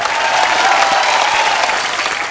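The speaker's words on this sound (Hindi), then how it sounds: "जोरदार तालियां" A TV comedy studio audience on The Kapil Sharma Show breaks into loud, sustained applause, a dense and even wash of clapping with crowd noise and no speech over it.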